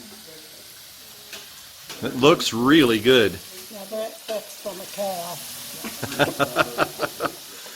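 Venison steak sizzles steadily in a hot pan, a continuous crackling hiss beneath people talking nearby.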